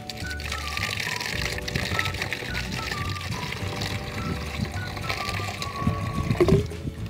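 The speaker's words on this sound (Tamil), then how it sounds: "தண்ணி ஊற்றியாச்சு" Water pours steadily into a plastic water rocket bottle from a kit, a continuous liquid rush with trickling, close by, with faint voices in the background.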